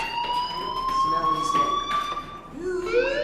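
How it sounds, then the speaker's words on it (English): A fire alarm rings in the video game Life is Strange, a sustained electronic tone wailing steadily, with voices speaking over it near the end. "do you hear that fire alarm?"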